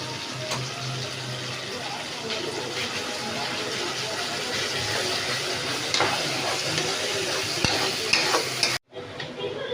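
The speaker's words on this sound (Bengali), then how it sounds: "এরকম ভাবে নাড়তে হবে, এটাকে নেড়ে নেড়ে" Food frying in a pan with turmeric powder is stirred steadily, giving a constant close sizzle with scraping strokes throughout before the sound cuts off abruptly near the end.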